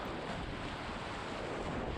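Rushing whitewater at the Jaws surfing-wave rapid on the Nolichucky River, a dense, steady roar of churning water and wind noise, constant and unbroken, with no voices.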